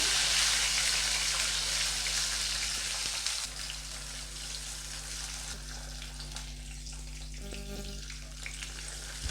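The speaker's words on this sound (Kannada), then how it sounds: "ಎಣ್ಣೆಲೆ ಚೆನ್ನಾಗಿ ಫ್ರೈ ಆಗಬೇಕು ಈರುಳ್ಳಿ" Ground onion paste fries in hot oil for a mushroom pepper masala, giving a loud, steady hiss and sizzle that eases slightly midway and carries on continuously, with faint clinks near the end.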